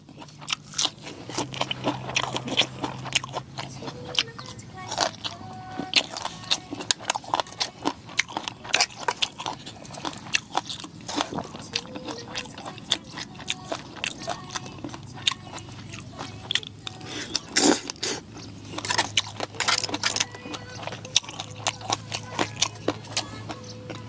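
Crisp, crunchy chewing of spicy Thai som tam papaya salad at a quiet campsite, close and continuous with irregular bites and crackles throughout, no speech.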